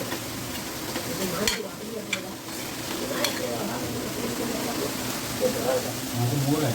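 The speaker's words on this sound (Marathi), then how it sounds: "अशा प्रकारे आता माझं इकडे भाजणं चालू आहे आणि असं एकदम मंद गॅसवर भाजून घ्यायचं आहे" Fennel seeds dry roasting in a pan over a low gas flame, a steady soft sizzle with occasional stirring scrapes, heard close alongside a speaking voice.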